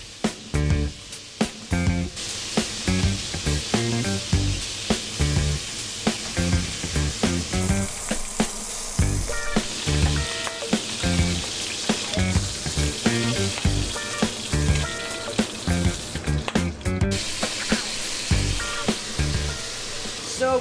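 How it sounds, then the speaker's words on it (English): Garlic-marinated pork steaks frying on both sides in a hot pan, a loud continuous spattering sizzle broken by repeated rhythmic knocks and scrapes over about twenty seconds, music playing in the background. "what we're going to do is fry them both sides, each of the steak we have"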